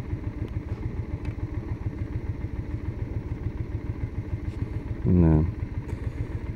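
Motorcycle riding through Japan in summer, a rapid, even engine pulse thumping steadily throughout, with a brief louder rising-falling sweep near the end and a short spoken word.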